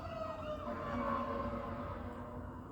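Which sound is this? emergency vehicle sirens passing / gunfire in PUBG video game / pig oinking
emergency vehicle sirens passing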